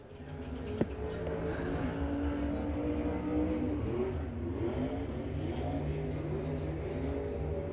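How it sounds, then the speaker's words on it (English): Race car with a spec engine running laps at a Pittsburgh motor speedway heat event in 1996, a steady, moderately loud engine drone with revving and passing swells throughout, heard from trackside. "This is a spec engine, a spec motor."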